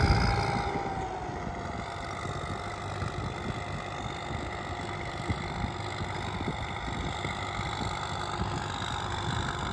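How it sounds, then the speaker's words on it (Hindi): An IMT 533 tractor engine idles steadily at a field during zero-drill seeding of PBW 725 wheat, holding a constant mid-pitched rumble with a faint high whine above it and no talking. "तुसी साउंड चेक करो जी ट्रैक्टर की"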